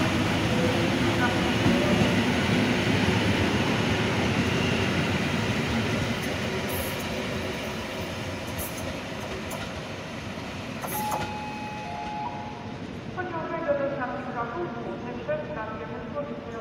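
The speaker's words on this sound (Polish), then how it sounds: "Dwa loki jechały." Two railway locomotives roll past close by with a loud, continuous rumble and rail noise that slowly fades, ending in thin metallic squeals and a brief tone; a voice is faintly present.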